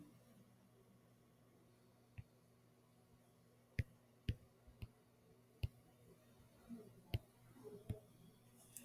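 Computer keys and mouse clicks sound while an equation is typed into Desmos: sparse, crisp taps scattered irregularly, some in quick pairs, faint and close against a quiet hum, with no talking.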